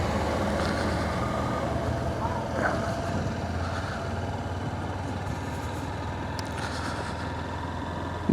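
A Honda Hornet 2.0 motorcycle is ridden in the rain, with a steady low engine drone and road and wind wash throughout and a few faint higher tones rising and falling.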